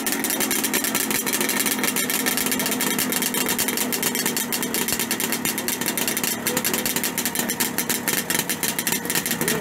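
A Kawasaki H1 Mach III motorcycle engine idles at a vintage motorcycle club gathering, with a steady, loud, busy two-stroke rattle running throughout, close by and without talk.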